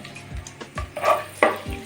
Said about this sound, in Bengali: তেলটা গরম হলে কিছু কাজু আমি দিয়ে হালকা ভেজে নেব